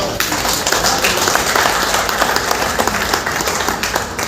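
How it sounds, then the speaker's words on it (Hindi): Audience applause fills a book launch event held by Nikhil Publishers in Agra: dense, steady clapping from a full room, loud and close, sustained evenly throughout with no speech over it. "जोरदार तालियां।"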